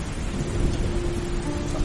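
Steady heavy rain with a thunderstorm rumbling underneath, a continuous loud wash of downpour filling the whole stretch with no voices.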